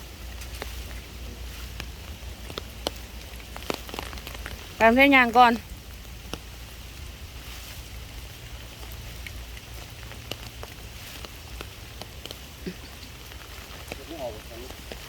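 Rain from Typhoon Noru falls as a soft, steady patter throughout, with people talking and a short whistling tone partway through.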